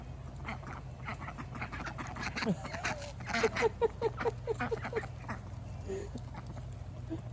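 Ducks quack in a quick rapid series, fairly close but soft, over a low background hum with faint bird calls and rustling.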